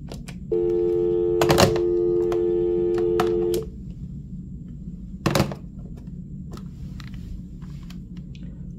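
A hotel cordless phone in Las Vegas gives a steady line tone for about three seconds, broken by a couple of clicks and button beeps, followed by a few more sharp clicks and a fainter tone later.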